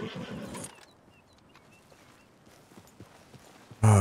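Hooves clip-clop from a horse in the Red Dead Redemption 2 video game, an initial louder burst fading into quieter steady steps with faint chirps, then a sudden loud sound at the end; no talking.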